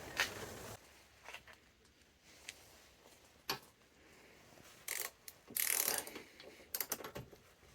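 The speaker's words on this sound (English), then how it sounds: "I'll just tighten it with the socket and ratchet." Bursts of socket ratchet clicking come in short spurts between pauses, a wrench being cranked nearby on a Honda-engined lawnmower, with quiet gaps in between.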